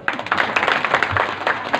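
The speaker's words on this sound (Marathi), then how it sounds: "सर्वांनी तुमचे तुम्ही टाळ्या वाजा" An audience clapping after a bhajan, a dense, steady patter of many hands at moderate distance, continuous for under two seconds.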